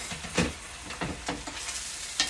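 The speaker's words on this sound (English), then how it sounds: "you can just saute your spinach to the consistency that you like it" Spinach sautéing in a pan throws off a steady close sizzle, broken by a few brief scraping stirs, with no voices.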